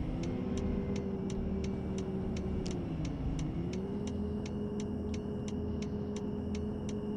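A city bus in the Bus Simulator Ultimate game drives and turns with a steady engine drone whose pitch dips and recovers, while a regular ticking indicator clicks through it at moderate level.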